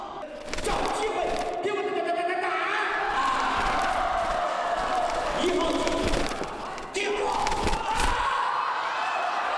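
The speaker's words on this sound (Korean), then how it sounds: "그것은 닭싸움이었습니다." At a cockfight in a city square in 12th-century Song dynasty Kaifeng, a dense crowd shouts and cheers loudly and continuously. Scattered thumps break through the noise, and the roar dips briefly before surging back.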